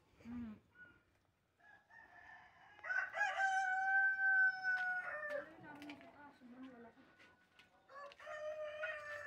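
A rooster on a Philippine farm crows loudly nearby in a long, drawn-out call, preceded by a brief squawk and followed by softer clucking and another crow starting.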